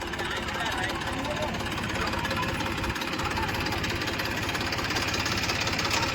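A tractor engine runs nearby at a steady idle, a constant low rumbling drone throughout, with people talking over it.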